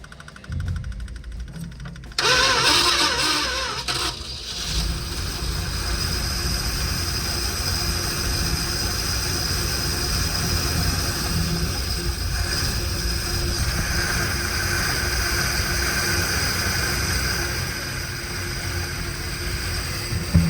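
A 1972 Plymouth Satellite Sebring Plus, sitting unused for nearly three decades, cranks and fires after about two seconds, then settles into a loud, rough, continuous engine run close by.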